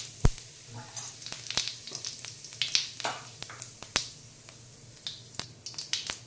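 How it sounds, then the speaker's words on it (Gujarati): Cumin seeds crackling in hot oil for sabudana khichdi, a brisk scatter of sharp pops and snaps over a soft sizzle, close and moderately loud with no talk over it. "તો હવે પહેલાં જીરું એડ કરીશું"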